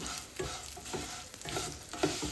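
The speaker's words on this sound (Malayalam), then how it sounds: "സേമിയ ഇട്ട് നന്നായി ഇളക്കി കൊടുത്ത് അത് ഒരുവിധം ചോക്കുന്ന വരെ നമ്മൾ അത് വറുത്ത് കൊടുക്കണം" Vermicelli is stirred and fried in ghee in a pan: a steady sizzle broken by rhythmic scraping strokes of the spoon roughly every half second, close and fairly quiet, with no talking.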